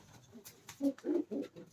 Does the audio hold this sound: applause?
no